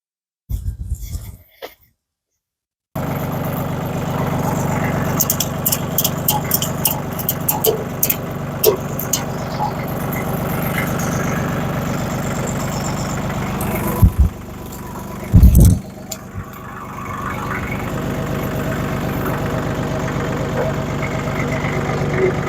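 An old tractor fitted with a bucket idles and runs nearby while being unloaded from a trailer, its steady engine rumble broken by a few loud clanks and knocks, with a short burst of sound and silence before the engine starts.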